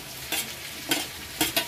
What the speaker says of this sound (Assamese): তো আলু আৰু কোমোৰাখিনি অলপ টাইম ভাজি ল'ম